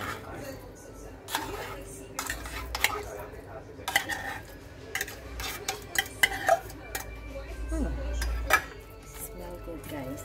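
Corned beef goes into a pan of frying potatoes, bringing scattered metal clinks and scraping stirs of utensil against pan over a low sizzle, with a person talking at times.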